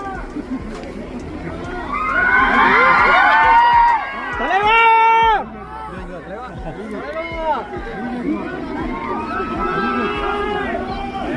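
Families of fans gathered in Coimbatore to see Rajinikanth cheer and shout loudly, with voices swelling in waves and long drawn-out calls over a busy crowd.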